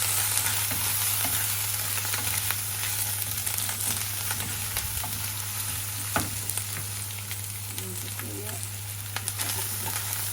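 A steady, close sizzle and hiss comes from ginger and garlic paste frying in a pan for a baim fish curry, with a low hum underneath and faint voices in the background.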